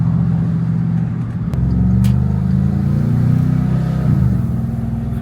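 A Porsche 955 Cayenne Turbo V8 with a muffler delete and X-pipe idles loud and close with a deep raspy burble, then revs up and holds a higher throaty drone before settling again. No one speaks over it.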